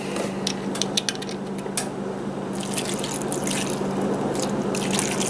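Vinegar pours from a bottle onto ribs, a continuous close splashing trickle with scattered drips and patters over a low background hum, and no talking.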